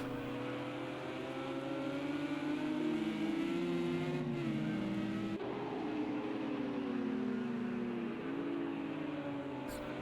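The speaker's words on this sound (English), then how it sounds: "is closing down the Lamborghini of Lev." GT3 race cars at Texas road course in Project CARS 2, engines whining loudly with rising and falling pitch as they accelerate and shift, several cars overlapping in a steady roar.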